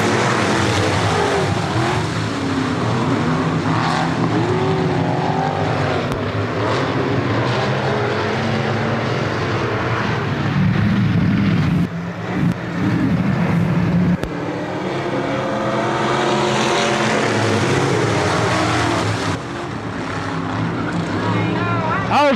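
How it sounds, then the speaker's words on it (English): Dirt track race cars at Thunderbird Raceway in West Michigan roar continuously, engines droning loud and near with rising and falling pitch as they pass, while a voice talks over them. "we're ready for some of the finest dirt track racing in West Michigan"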